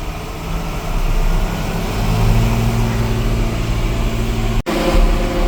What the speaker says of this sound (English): you can see the tractor is not really working that hard right now